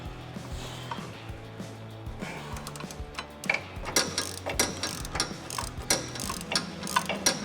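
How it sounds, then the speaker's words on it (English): Ratcheting wrench working on Jeep Wrangler JL (2018) suspension bolts during a lift kit install, starting with slow, sparse clicks and then quickening into rapid, loud, close ratchet clicks and metallic ticks with no voices. "We're going to use an 18mm wrench and a 6mm Allen key."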